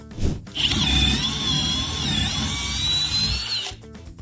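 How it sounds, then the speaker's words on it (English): A power drill with a spiral flute bit bores into tough material such as stainless steel or hardwood, giving a steady, loud high-pitched whine that runs for about three seconds before cutting off. "Electricians and metalworkers report being able to drill hundreds of holes without the bit dulling"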